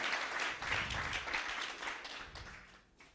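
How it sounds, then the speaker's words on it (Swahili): A church congregation at a Sunday service claps for Jesus, dense, fairly soft applause from many hands filling the room and thinning out at the end. "Pigeni Yesu makofi."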